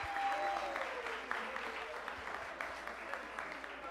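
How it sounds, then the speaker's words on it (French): An audience applauds at the final of a quiz competition, a steady, fairly quiet patter of many hands clapping together throughout, with no talking over it. "On l'applaudit encore, s'il vous plaît."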